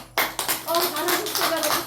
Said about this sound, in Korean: 그러면 박수 칩시다